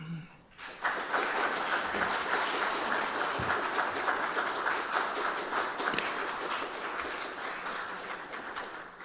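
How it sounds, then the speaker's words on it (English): Audience applause at a racing-history symposium breaks out after a talk ends, starting abruptly and holding as a dense, sustained clatter of many hands for several seconds before tapering slightly, with a few faint murmurs underneath. "I hope you heard the applause."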